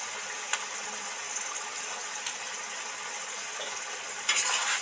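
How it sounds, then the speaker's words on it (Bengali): Onion, tomato and ginger-garlic paste frying in a pan for mutton curry with potatoes, giving a steady, even sizzle throughout with a couple of brief stirring knocks near the start and end. "দু 3 মিনিট ধরে ধরে ভালো করে কষতে থাকবো।"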